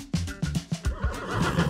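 A horse whinnies in a quick series of rising and falling calls, close and fairly loud, with no talking.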